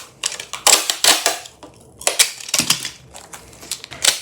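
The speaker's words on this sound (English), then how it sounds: "We're going straight for the packing tape." Packing tape is pulled off the roll and pressed down over painted glass, giving close, loud crackling rips in uneven bursts with short pauses between them.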